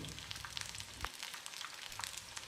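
Sliced ivy gourd for kovakkai 65 frying in hot oil, giving a faint, steady crackling sizzle with a few sharper pops.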